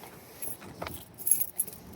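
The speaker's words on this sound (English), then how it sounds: "So I'm trying to find my keys." Keys jangle in short metallic bursts near the microphone while someone searches for them, with faint background noise between the rattles.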